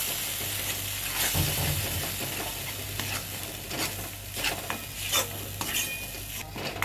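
Stirring tomato and cashew paste with chilli-ginger paste in a frying pan, a steady scraping and soft sizzle with occasional utensil knocks against the pan, close and continuous with no talking.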